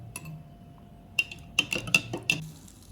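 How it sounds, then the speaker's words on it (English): A utensil stirs oatmeal in a bowl, giving a few sharp, close clinks against the dish in an irregular cluster over quiet background, with no talking. "So I'm stirring now to combine."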